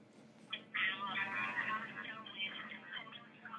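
A phone ringtone plays over speakerphone while a call is placed, a tinny, melodic ringback tune running steadily throughout at moderate level, with background voices in the room.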